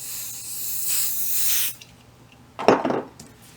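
Two bursts of aerosol spray aimed at a felt reindeer ornament's nose: a steady hiss of under two seconds, a pause, then a shorter, sharper puff, both close and alone without talk.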